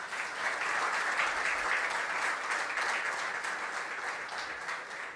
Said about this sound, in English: let's have a big round of applause for all of them